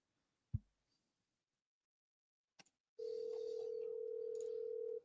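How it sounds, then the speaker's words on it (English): A phone call to a seller placed live: after a sharp click and brief silence, a steady, unbroken line tone sounds alone and close while the call waits to be answered. "I'm just putting this guy up on the phone. See if they answer."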